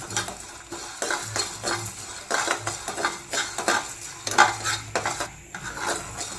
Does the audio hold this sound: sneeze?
no